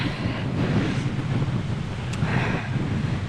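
Strong crosswind buffets the microphone during a long-distance bike ride, in a steady, rumbling roar with gusty surges, drowning out everything else.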